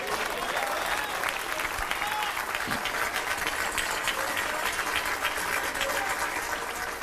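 Sustained audience applause fills a church service during a Portuguese sermon, steady dense clapping from a congregation with faint voices mixed in, holding at an even level throughout.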